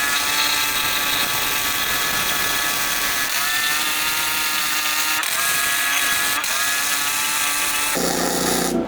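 An ArCCaptain MIG 250 welder runs flux core wire on a 220 circuit, giving a steady, loud, buzzing crackle that continues for several seconds. Its pitch shifts slightly partway through, and the tone changes near the end.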